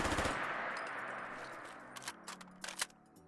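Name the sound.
Remington ACR rifle firing and reloading in Fallout 4 mod video game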